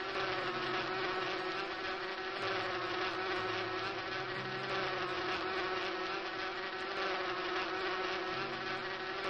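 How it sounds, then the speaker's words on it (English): Honeybees swarm around a tree in the video game Inherit the Earth, making a continuous close droning buzz that holds steady without a break. "Bees! And unless I miss my guess, those are definitely honeybees."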